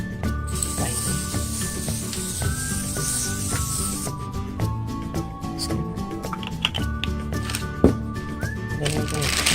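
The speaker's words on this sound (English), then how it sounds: "Just gonna spray it." A hissing aerosol of cooking spray bursts onto a foil baking sheet for a few seconds near the mic, followed by light clicks and rustling handling noises.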